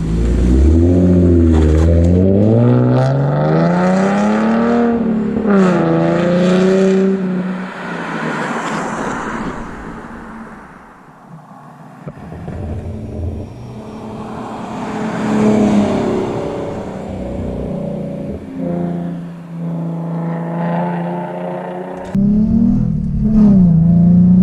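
A Ford Mustang Black Transformers Edition revs its exhaust repeatedly, with loud rising and falling engine pitch sweeps, a quieter lull in the middle, and a final sharp rev, close and unaccompanied by speech.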